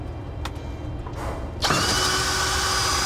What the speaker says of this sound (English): Take a smaller drill bit to drill a pilot hole.